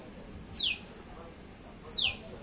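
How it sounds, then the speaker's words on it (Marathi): A bird in a wooded village area gives two clear, sharp descending whistled calls about a second and a half apart over quiet outdoor background. "वरडतं काय माहिती पक्षी"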